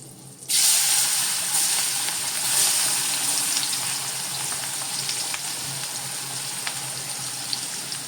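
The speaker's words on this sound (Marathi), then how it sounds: "हा कांदा मी घालतोय." Onion drops into hot oil with mustard seeds, turmeric and asafoetida, bursting into a sudden loud hiss after a moment of quiet, then settling into a steady close sizzle with faint crackles.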